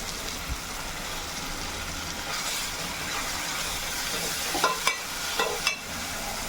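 Ground paste mix poured into a sizzling beef curry gravy, a steady close frying hiss throughout with a few brief stirring clatters and splashes near the end.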